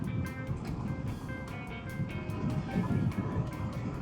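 A Suzuki DR-Z400S motorcycle cruises in fifth gear over rocky ground, a steady faint engine drone mixed with wind rush and rattling, with no clear shifts.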